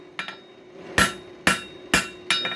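A hammer strikes coil spring steel that is being forged into a screwdriver. Two light taps are followed by four sharp, ringing blows, evenly spaced and close, with a faint hum in the background.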